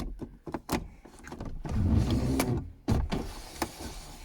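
A car sunroof motors open with a low whirring hum lasting about a second, bracketed by clicks and thumps from inside the cabin, close and fairly quiet.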